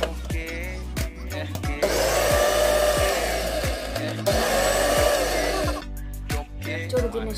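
A mixer grinder blends garlic, egg yolk and salt in two loud, sustained whirring bursts, with sharp clicks and knocks between and around them.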